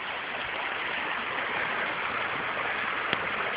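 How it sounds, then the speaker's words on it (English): Running water of a stream behind a house, a steady broadband rushing and burbling heard from nearby with an even loudness throughout and one brief click near the end. "This is the running water that I've been hearing since we moved in."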